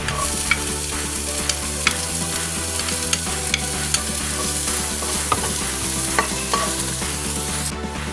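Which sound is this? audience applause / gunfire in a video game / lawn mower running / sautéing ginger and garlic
sautéing ginger and garlic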